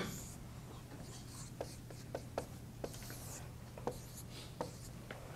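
Chalk tapping and scratching on a board during a calculus lecture, a sparse series of sharp little taps and soft strokes over a steady low room hum, fairly faint and with no talk.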